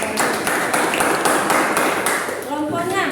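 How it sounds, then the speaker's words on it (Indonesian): Applause from a classroom group during a school democracy project presentation, a short burst of clapping mixed with voices, fairly close and loud, fading after about two and a half seconds. "tepuk tangan luar biasa"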